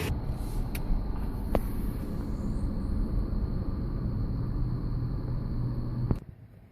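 A 2013 Toyota 4Runner on a slow drive around the block, heard from inside the cabin as a steady low road rumble and hum, ending with a sharp click.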